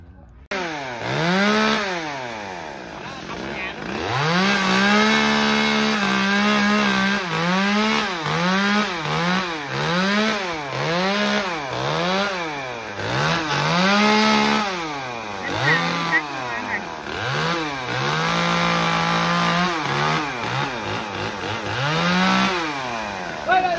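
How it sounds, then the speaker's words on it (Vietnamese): Chainsaw cutting coconut trees in a plum orchard, the engine loud and close, revving up and down in rapid repeated surges as the blade bites the trunk, running almost nonstop. "Giờ đang là bộ máy cưa cho anh Hiệt."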